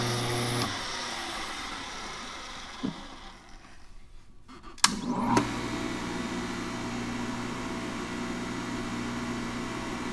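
A juicer motor runs steadily while carrots are fed through it, giving a loud, continuous whirring hum with a brief dip and a clunk near the middle before the drone resumes.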